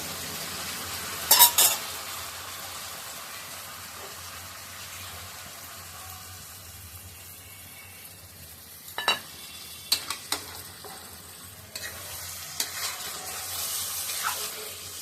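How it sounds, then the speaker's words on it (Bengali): A pan sizzles while a dish is braised with a little added water in a home kitchen, a low steady fry broken by a few sharp bursts of stirring and clatter. "এবার আমি একটু জল দিয়ে কষিয়ে নেব।"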